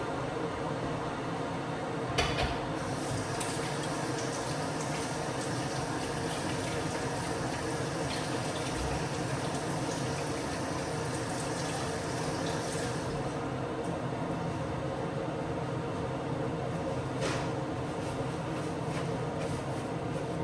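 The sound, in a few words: kettle boiling water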